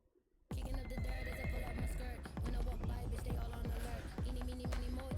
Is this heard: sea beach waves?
no